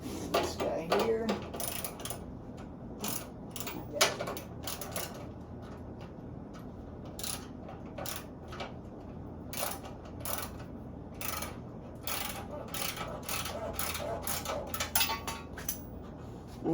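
Deep socket ratchet tightening a sway bar bolt on a 1955 Chevrolet Bel Air front suspension, with irregular bursts of quick metallic clicking separated by pauses, close by and fairly quiet over a low background hum.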